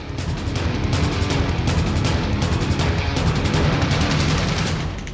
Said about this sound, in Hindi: एक जोरदार धमाका